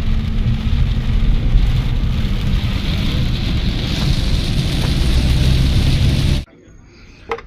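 Rain during a road trip from Nashik toward Ratnagiri, a dense steady roar of rain and road noise heard from inside a moving vehicle, which cuts off abruptly near the end into near quiet.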